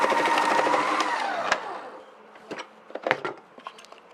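A potato wafer slicing machine runs with a buzzing motor whine that winds down after about two seconds, followed by sparse clattering knocks and taps from the machine.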